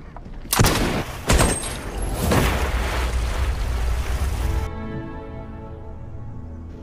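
Gunfire from a newly built Russian rifle being test-fired in a film: two sharp loud shots followed by a rumbling rolling roar that fades into a lingering low background hum.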